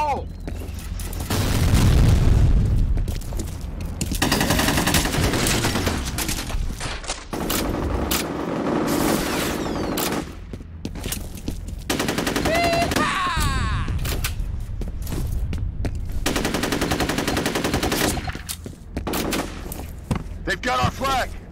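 Grenade blasts and gunfire in the online shooter F.E.A.R. Combat: heavy booms and rapid bursts of automatic fire come in loud waves with short lulls, and voices are heard intermittently.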